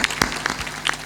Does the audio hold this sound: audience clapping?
yes